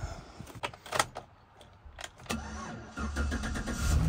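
A budget-build car engine cranks with a few uneven bursts, then catches and settles into a steady, close running idle that grows louder toward the end, with a door or window click early on.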